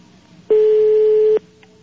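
A single steady telephone ringback tone sounds once for just under a second, a clean pure pitch during an outgoing phone call, with quiet line noise before and after.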